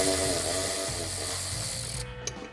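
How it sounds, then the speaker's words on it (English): Dense continuous mechanical clicking and grinding while a bolt is worked out of a disc brake bracket on a 1965-1966 V8 Mustang, loud and close, cutting off abruptly near the end. "Now we can remove the bolt from the other side."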